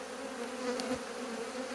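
Honeybee colony buzzing loudly and continuously as bees are shaken off frames, a dense close drone with no voices.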